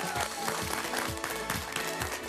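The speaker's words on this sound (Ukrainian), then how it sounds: "Аплодисменты." A studio audience at a televised show claps in a dense, rhythmic burst of applause that stays fairly loud and steady throughout.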